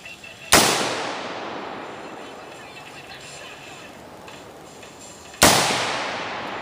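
An AR-15 rifle fires two loud, sharp shots about five seconds apart outdoors, each followed by a long, fading echo.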